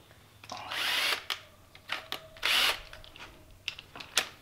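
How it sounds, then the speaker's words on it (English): A power drill spinning a chimney-cleaning brush on its connected rods whirs in several short bursts, with loud revving pulses separated by brief pauses and clicks. "We'll put it on the drill."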